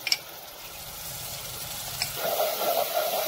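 Ginger garlic paste is frying with onions in hot oil for parda gosht, with a steady close sizzle and hiss that swells into brighter crackling as it is stirred, and no voices.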